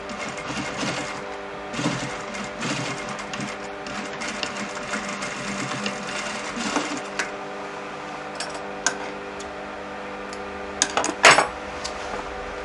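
A sewing machine stitches a shirt collar with a slightly longer stitch setting, a steady close mechanical whir running throughout, with light clicks and a couple of sharper metallic taps near the end.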